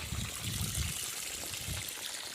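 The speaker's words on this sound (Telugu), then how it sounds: "మల్చింగ్ పేపర్ మధ్యలో వాటర్ని అయితే వదులుతున్నాను" Water released onto soil between strips of mulching paper in a hot field, a soft continuous trickling and gushing flow heard alone and fairly quiet.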